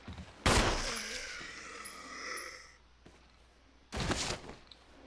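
Two sharp gunshots in a Resident Evil video game, fired at a zombie, loud and close and spaced a few seconds apart, with softer game sounds in between.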